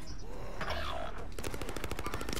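Rapid gunfire in a zombie video game, a fast string of sharp repeated shots in the second half after a muffled, noisy stretch of game sound.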